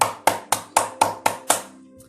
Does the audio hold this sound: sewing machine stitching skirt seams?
no